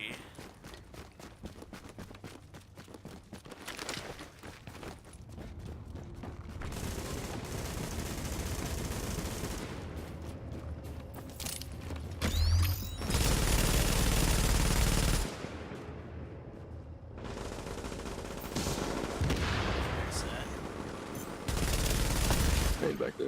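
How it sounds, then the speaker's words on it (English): A light machine gun in a cover-based video shooter fires long, sustained bursts of rapid automatic gunfire, separated by short pauses, loud and up front with players talking over it. "So now we're on our prepared LMG."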